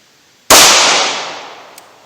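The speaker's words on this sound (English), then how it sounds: "let's see what kind of accuracy I'm getting from 7 yards. I'll try to do my best and shoot real slow" A single sharp, loud gunshot from a J-frame snub-nose double-action revolver fired slowly at a target from seven yards, cracking suddenly and then ringing out in a long decaying echo.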